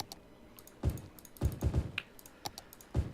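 Soft, fairly quiet keystrokes on an old Apple keyboard arrive in uneven bursts of several taps with short pauses between, close and alone.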